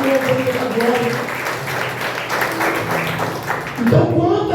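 A church congregation applauds during a celebration service, a dense patter of clapping that runs under a preacher's voice and swells again near the end.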